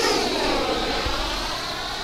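A Freewing B-2 Spirit model jet with twin 70mm electric ducted fans flies overhead outdoors, giving a steady, loud, high-pitched whine and rushing roar that holds evenly without pause.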